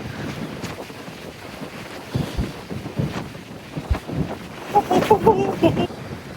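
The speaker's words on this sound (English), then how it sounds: "it's a bit windy" Gusty wind buffets the microphone outdoors at sea on an Antarctic cruise, a rough low rumble rising and falling, with faint tonal chimes near the end.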